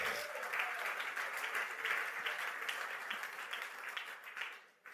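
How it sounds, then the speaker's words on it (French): A church congregation applauds and cheers steadily throughout, a dense wash of clapping that thins and fades near the end. "Oh, on peut acclamer le roi des rois."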